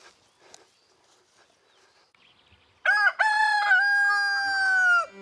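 A black Berry rooster crows once, loud and close, in a long drawn-out call after a few seconds of quiet with faint scratching and clucking from the hens.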